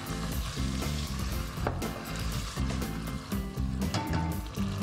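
Tomato puree hits a hot pan of ginger garlic paste and sizzles loudly and continuously, with occasional stirring scrapes and music playing underneath.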